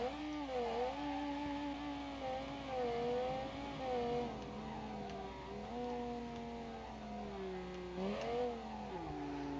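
A V10-engined car in the game Automation accelerates hard with its stability control off, engine note climbing and dipping through several gear changes as the tyres spin, loud and close with no talk.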